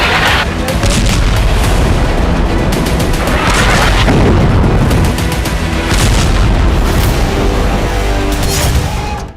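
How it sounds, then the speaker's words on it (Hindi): Heavy, repeated booming blasts from Israeli bunker buster bombs striking high-rise buildings, loud rolling explosions and crackling impacts layered one after another with scattered sharper reports in between. "बंकर बस्टर बम का इस्तेमाल किया।"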